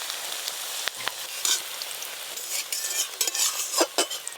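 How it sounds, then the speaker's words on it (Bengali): Water spinach (kolmi shak) fritters sizzle and crackle in hot oil close up, with bursts of louder spattering as they are stirred and turned in the pan. "যা আছে এবারে সব একবারেই ভাজবো।"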